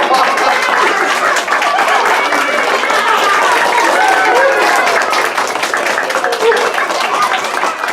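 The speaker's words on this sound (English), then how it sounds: "Give him a big round of applause." A crowd applauds a child volunteer at a comedy magic show, steady clapping filling the room throughout with cheering and voices mixed in.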